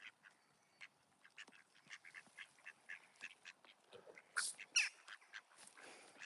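Ducks quack and squawk in a scattered, irregular series of short calls, faint and somewhat distant, with a few louder calls near the end.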